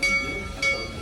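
Serengeti Express, the theme park train at Busch Gardens Tampa, rumbles steadily past at close range with a brief louder swell near the middle, and a voice talks over it.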